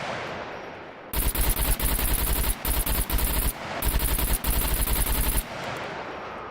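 Sustained automatic gunfire in the video game Scum, two long rapid bursts with a brief gap between them, loud and dense, with no speech.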